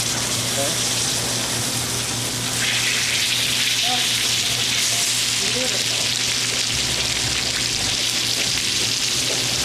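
Seafood sears in clarified butter in a restaurant kitchen pan with a loud, continuous sizzle and crackle. The frying grows a bit brighter partway through, and voices talk over it.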